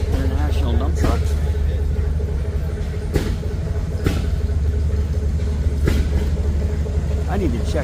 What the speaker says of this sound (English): International dump trucks.